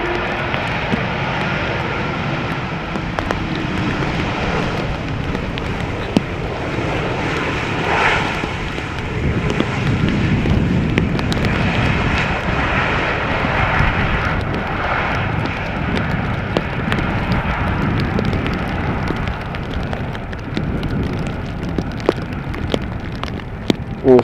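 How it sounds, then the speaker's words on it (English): Jet engines of a KLM Embraer E2 airliner at Schiphol airport roar steadily and loudly throughout, a continuous broadband rumble in rainy weather with no talking. "one of KLM's E2 Embraers. Look at the size of those big engines."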